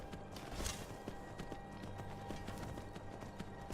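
Horse hooves clip-clopping in the video game Skyrim, a quick regular gait that sounds close, over game ambience with no talk.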